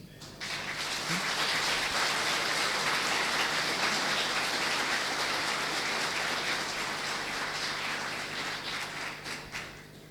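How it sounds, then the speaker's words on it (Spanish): A church congregation gives a loud round of applause to the Lord, a steady, dense hiss of many hands clapping that starts abruptly, holds for about ten seconds, then tapers slightly. "¿Cuánto le dan un fuerte aplauso al Señor?"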